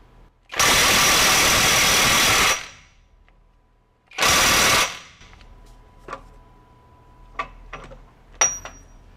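A Hercules HCB85B 20V brushless impact wrench running in reverse at mode 3 on a high-torque fastener, two loud hammering bursts of about two seconds and under a second, then quiet with a few faint clicks and knocks.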